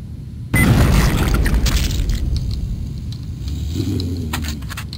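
Sticky bombs going off in the Shadow Warrior game, Level 2 Mountain Camp: a sudden loud boom with a long rumbling blast tail that fades and swells again, plus scattered debris-like clatter.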